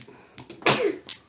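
A single sharp sneeze close to the listener, preceded by a short breathy intake and followed by a faint trailing sound.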